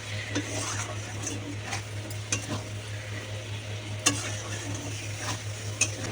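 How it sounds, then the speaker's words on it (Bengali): Minced meat is stir-fried in a pan on a gas stove in a home kitchen, with a spatula scraping and clinking against the pan over a steady sizzle and a constant low hum. "কিমাটা দিয়ে দিলাম এবার আমি একটু গ্যাসটা বাড়িয়ে এবার এটা সুন্দর করে কষে নেবো"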